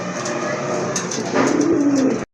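Caged pigeons, including a large white female, give a soft, rolling coo that swells near the end over a busy background murmur before cutting off.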